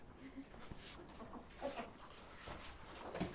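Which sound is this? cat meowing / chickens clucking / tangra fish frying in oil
chickens clucking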